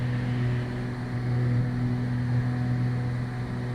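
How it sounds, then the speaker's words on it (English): A small airplane's engine drones steadily in flight, a loud, constant, close hum with a strong low tone and no break over the few seconds. "I think it's the noise of the engines."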